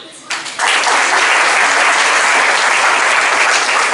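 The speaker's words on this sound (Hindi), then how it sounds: "इनके लिए तालियां हो जाए" Audience applause starts abruptly after a moment of quieter sound, then swells into a loud, continuous wall of clapping that carries on without letup.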